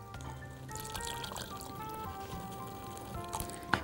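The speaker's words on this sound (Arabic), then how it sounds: "هنحط بقى دلوقتي شوية مية." Water poured into a pot of pasta sauce for Mexican-style pasta, a steady splashing pour with trickling that runs continuously at moderate level over kitchen background hum.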